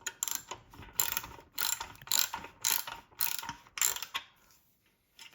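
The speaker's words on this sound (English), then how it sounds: "So let's tighten this nut here." Rapid ratcheting clicks from a wrench tightening a nut on an Inspire Fitness FT1 bench, coming in about eight close, loud bursts separated by short pauses, with no talking.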